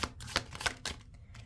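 Tarot cards being shuffled by hand in a quiet room, a quick series of soft riffling bursts and papery flicks at close range, faint and uneven in rhythm, with no talking.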